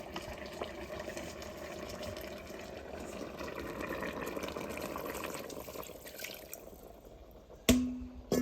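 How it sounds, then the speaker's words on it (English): Water pours into a cooking pot of curried chicken, a continuous splashing stream lasting several seconds and fading out, followed by a sharp knock near the end. "So, just going to pour this in there."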